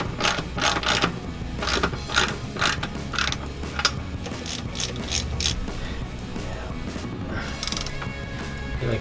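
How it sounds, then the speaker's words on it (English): Ratchet tightening bolts inside a Chevy HEI distributor, giving a close run of quick repeated clicks in uneven bursts, then a pause and faint handling noises. "It's damn near impossible to get your hand up in there with the ratchet"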